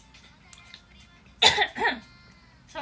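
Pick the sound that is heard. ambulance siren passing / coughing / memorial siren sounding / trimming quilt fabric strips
coughing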